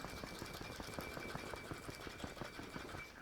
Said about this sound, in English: we are going to dry shake this. That is shaking it without any ice in the tin.